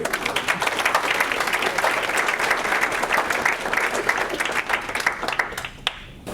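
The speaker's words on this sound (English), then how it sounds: "let's give them a round of applause" Audience applause for a panel discussion on emergency survival technology, a dense, steady wash of many hands clapping close and loud for about six seconds before thinning out at the end.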